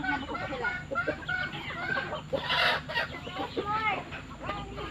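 A flock of chickens clucks and squawks busily during feeding on a rural mountain farm, with overlapping calls close by and continuous chatter.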